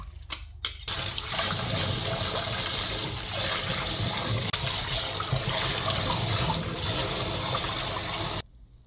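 Cold tap water runs steadily into a sink as blanched dureup shoots are rinsed, a loud continuous splashing stream after a few brief clatters, then stopping abruptly.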